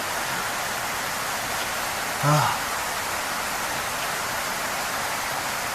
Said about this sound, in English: It's raining and it's still 30-something degrees